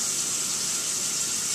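Hot water gushes steadily from a tap or kettle into a bowl to rehydrate freeze-dried dog food, a continuous, close, even pouring hiss with no pauses or talk.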